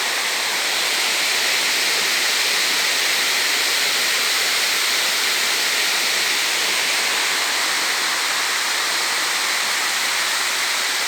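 Water rushing steadily over a village dam, a loud unbroken roar of broadband noise with no pauses.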